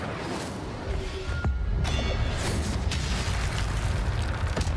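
Incendio fire spell cast in the Hogwarts Legacy video game, a loud, continuous roaring burst of flame with deep rumbling boom and crackle, holding steady for several seconds.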